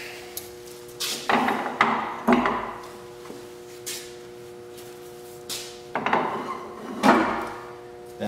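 Concrete test cylinders are loaded into the tray of a Hoskin C617 concrete cylinder end grinder and clamped in place, giving a series of close, sharp knocks and clanks at irregular intervals over a steady machine hum.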